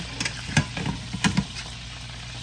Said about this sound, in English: We're going to continue frying.